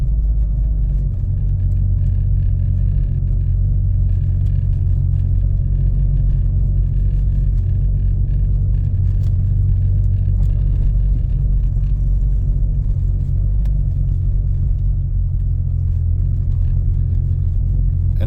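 A car driving along a well-maintained back road, heard from inside as a steady, loud low rumble of engine and tires that holds constant throughout.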